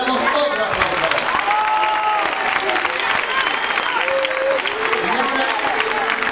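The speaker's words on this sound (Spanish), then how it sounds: "le damos otro aplauso" A school crowd at a Día de La Rioja celebration claps loudly and continuously, with cheering, whistles and excited children's voices mixed into the dense applause throughout.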